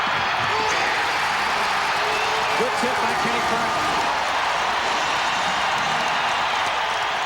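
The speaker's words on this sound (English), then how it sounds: "Listen to the crowd." A basketball arena crowd roars steadily and loudly throughout, a continuous wall of cheering with a play-by-play voice talking over it.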